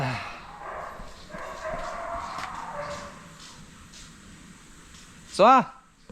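At a dog house by barracks, a single loud dog bark rings out near the end, following a stretch of low background murmur and faint voices.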